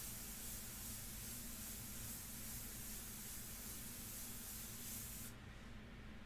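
An airbrush sprays India ink onto paper in a continuous, close, even hiss that runs unbroken throughout and drops slightly in brightness near the end.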